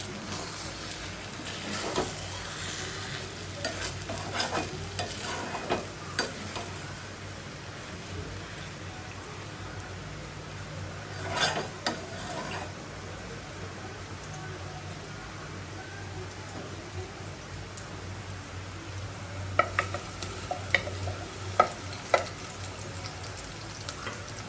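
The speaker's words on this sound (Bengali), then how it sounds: "পেঁয়াজটা ভাজা হয়ে গেছে" Onions fry in a pan with a soft, steady sizzle, broken up by occasional scraping and clinking of a stirring spoon, all fairly quiet and close.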